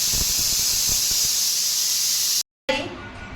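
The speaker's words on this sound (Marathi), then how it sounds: "मंडळी आता कुकरची एक शिट्टी झाली" A pressure cooker of stuffed brinjals whistles, a loud, steady, close hissing jet of steam that runs unbroken and then cuts off abruptly, followed by a brief fainter clatter.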